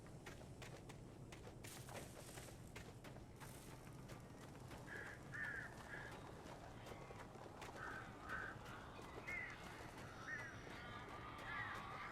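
Birds call in short repeated bursts over a steady dark ambient hum in the Alan Wake video game, the cries faint and somewhat distant, spaced across several seconds.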